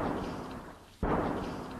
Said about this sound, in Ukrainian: Раптово лунає чи то постріл, чи то вибух.